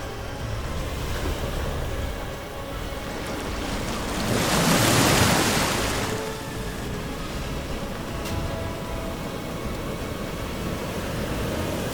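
Open-ocean waves roll and break around a commercial fishing operation hauling redfish traps, a broad wash of surf swelling loudly midway then settling into a steady roar with wind noise.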